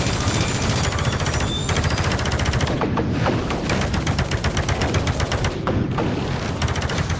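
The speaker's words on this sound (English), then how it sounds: "Machine gun." Rapid machine gun fire blasts in the VR shooter Space Pirate Trainer, a dense, loud, continuous rattle of shots lasting several seconds with rumbling booms underneath and no talk.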